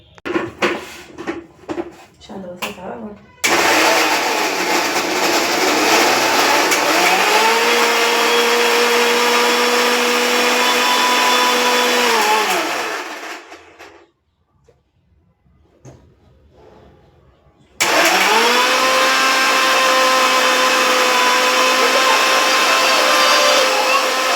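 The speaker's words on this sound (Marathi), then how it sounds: "ही टमाटा आणि मिरची आपण मिक्सरमधून फिरवून घेऊ" A kitchen mixer grinder whirs loudly as it grinds tomato and chili into a paste. It runs in one long burst with its pitch shifting, stops briefly into near silence, then starts again at full power.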